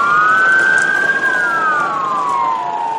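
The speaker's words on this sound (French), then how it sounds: "Les sirènes des ambulances résonnent dans toute la ville." An ambulance siren wails through city streets, a loud single rising and falling tone that sweeps up then slowly descends, heard clearly and alone.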